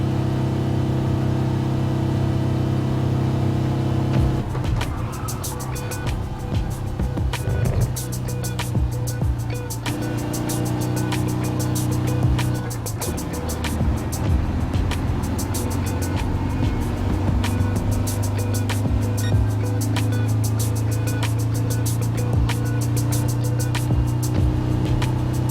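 A tuned VW van races at Le Mans in Gran Turismo Sport, its engine droning loudly and continuously, shifting in pitch through gear changes over the full stretch, with no talk.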